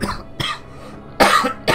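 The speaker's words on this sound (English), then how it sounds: "It's difficult to drive and cough at the same time." A man with a cold coughs while driving a truck: three loud, close coughs, the last a harsh double burst, separated by short quiet gaps.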